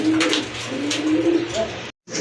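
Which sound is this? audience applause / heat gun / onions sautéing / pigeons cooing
pigeons cooing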